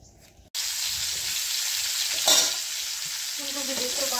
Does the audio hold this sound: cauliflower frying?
yes